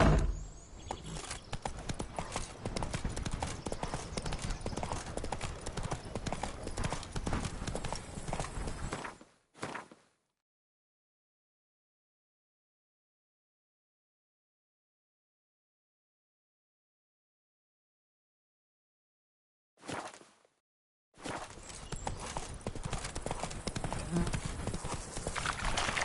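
Hooves of the horse Roach in The Witcher 3 clip-clop steadily and loudly at a gallop, cutting out to silence midway before the rhythmic pounding resumes near the end.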